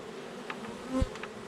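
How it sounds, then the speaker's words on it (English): Honey bees buzzing in and around a swarm trap box occupied by a swarm from a hive, a close steady drone with a brief louder swell. "This is a hive that swarmed, so they found our swarm box."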